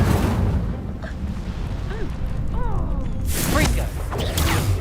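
A spoken incantation casts the Incendio fire spell in the video game Hogwarts Legacy, bringing a whooshing burst of flame with magical swishes and a bright crackling flare near the end. The voice says the spell aloud.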